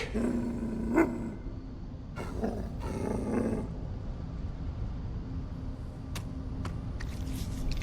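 Large dog from the sci-fi shooter The First Descendant giving a deep, growling bark and roar, a few close bursts over a steady game ambience.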